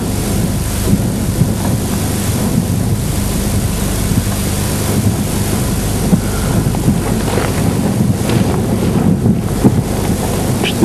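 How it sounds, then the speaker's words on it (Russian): Wind gusting around a boat, a constant heavy rumbling roar with buffeting against the microphone, continuous throughout with no voices. "Что-то ветерок разгулялся."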